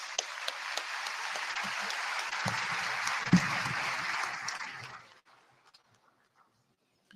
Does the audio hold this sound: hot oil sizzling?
no